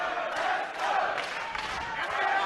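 Crowd at an MMA fight roaring and cheering behind a fighter, a continuous loud surge of voices and shouts from the arena with a few louder swells.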